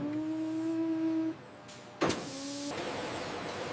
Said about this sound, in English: Heat jaws instantly seal the top of the bag, locking in the freshness and aroma